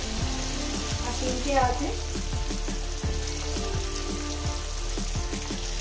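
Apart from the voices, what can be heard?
rohu fish pieces frying in oil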